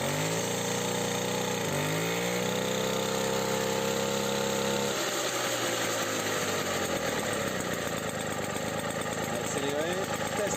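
A scooter engine, just back from a variator overhaul, is revved hard: its pitch climbs and drops in loud, close surges before settling into a rough buzzing idle.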